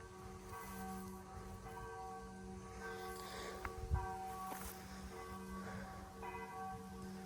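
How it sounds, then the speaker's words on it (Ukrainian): Church bells ringing at a distance, sustained tones layered with a steady hum, a faint thump partway through, no one speaking. "Без 15 дзвони б'ють."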